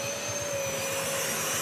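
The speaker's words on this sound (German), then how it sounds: "Jetzt hatte ich zum ersten Mal also Strom an den Staubsaugern." Vacuum cleaners rigged for suction climbing up a high-rise wall run with a loud, steady whine and a constant rushing roar, unbroken throughout.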